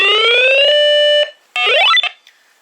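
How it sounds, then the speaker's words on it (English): A weather radio's warning siren sounds as a loud electronic tone, a sustained steady note, then a brief blip and a sweeping, warbling burst, ending in a faint short tone. "And everybody throbs for the warning siren."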